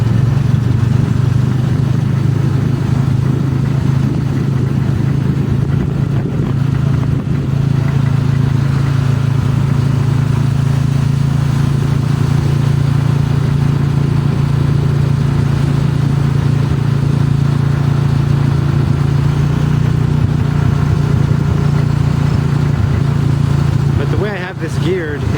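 Small 6.5 horsepower engine powering a stretched, lifted golf cart carrying six people, droning steadily and loud throughout with a low rumbling hum and no break, alone without talk.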